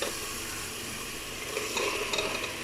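Pumpkin pieces go into a pan of frying masala for dal kaddu, a steady close sizzle with stirring that brightens and grows busier in the second half, no voices.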